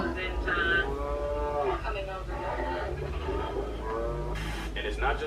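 A tiger imitates a cow, giving low, drawn-out moo-like calls, with a person talking over it throughout.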